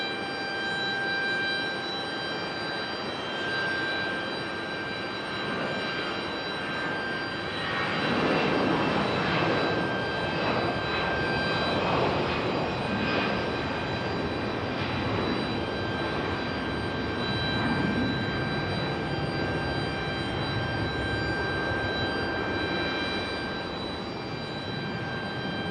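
Delta jet airliner taking off from runway 5 left at Raleigh-Durham airport, a broad steady engine roar building in the middle and holding at a distance, with no talk over it.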